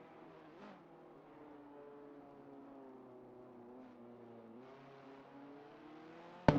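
Lamborghini Huracan race cars in a racing video game drone with a steady, layered engine hum that rises and shifts pitch as they rev, fairly quiet and even, ending in a sudden loud burst.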